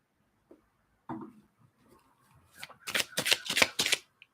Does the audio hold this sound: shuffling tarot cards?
yes